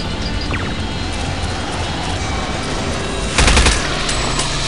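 Weapons fire in Heavy Metal F.A.K.K. 2, loud rapid bursts over dense game noise, with a harder, heavier volley toward the end.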